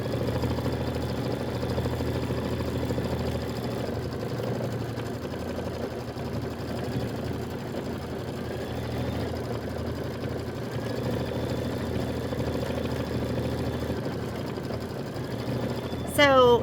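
Embroidery machine stitching a Kimberbell Halloween quilt design, a steady mechanical whir running throughout with a faint voice talking over it and a brief sharp sound at the end.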